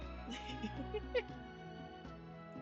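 A cat meows in the Genshin Impact 4.7 Archon Quest: a few short, soft mews rise over steady background music.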